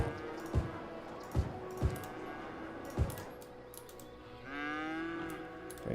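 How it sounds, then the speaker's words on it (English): Cattle lowing in a Cities: Skylines farming area, several short low bellows spaced a second or so apart, followed by a longer sustained moo-like tone near the end, fairly loud over a faint ambient game background. "Those cows are very, very loud too."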